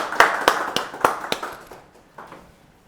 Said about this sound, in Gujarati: તો આપણે એમને તાળીઓના ગડગડાટથી વધાવીશું.